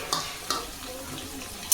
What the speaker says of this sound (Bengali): এবার পেঁয়াজটাও লাল লাল করে ভাজা হবে